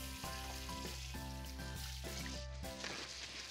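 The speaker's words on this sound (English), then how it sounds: "Get a little butter into the cast iron to cook the burger." A burger frying in butter in a cast iron pan, giving a steady, close sizzle that carries on without a break, with occasional crackles and spits. Nobody speaks.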